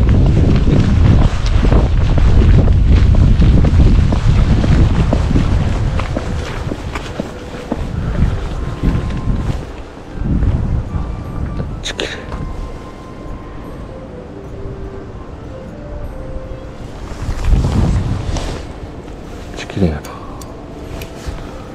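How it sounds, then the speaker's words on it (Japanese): Strong wind gusts buffet the microphone at a fishing harbour in Osaka, loud and roaring at first, then easing into a steadier rush with occasional surges, while someone speaks quietly at times. "まあまあ風が吹いとるな。"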